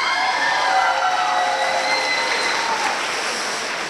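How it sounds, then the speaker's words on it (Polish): Sustained applause from a festival gala concert audience, a dense steady wash of clapping with a faint cheer, holding loud throughout and easing slightly toward the end. "jeszcze raz, gromkie brawa!"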